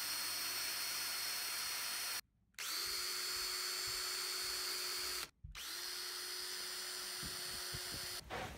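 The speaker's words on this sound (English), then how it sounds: "Drill 3 evenly spaced pilot holes through the funnel and sofa bun." A power drill bores pilot holes through a funnel and a sofa bun, three loud whining bursts with two short pauses between them. Each run spins up sharply, holds a steady high whine, then stops.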